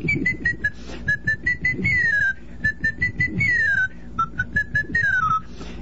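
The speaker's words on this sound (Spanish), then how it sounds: "el silbar común sería así" Ordinary whistling by a person: a clear, loud run of short whistled notes, some steady and some gliding downward, repeated in quick phrases without any talk.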